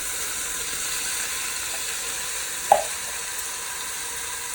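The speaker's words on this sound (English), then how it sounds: "Give it a little stir." Kidney beans and white corn being stirred into softened onions in a pot, a steady close hiss of cooking with one short scrape or clunk of the spoon partway through.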